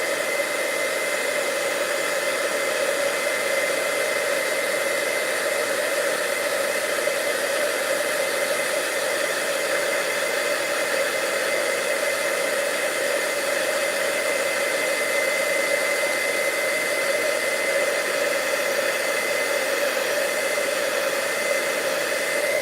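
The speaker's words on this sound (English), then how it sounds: "Keep your embossing gun moving." An embossing heat gun blows steadily on embossing powder while a Christmas card is being made, a loud, constant whooshing roar with no pauses, running alone throughout without any talk.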